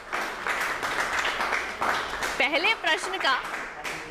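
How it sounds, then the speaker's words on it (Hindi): A quiz show audience breaks into brisk applause for a correct answer. The clapping lasts about two seconds before a voice takes over alone. "जोरदार तालियां हो जाए इनके लिए।"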